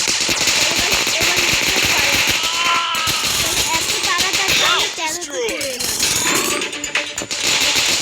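AK-47 rapid automatic fire in a shooter video game, loud bursts of close gunshots with sharp mechanical clatter, continuing over in-game effects.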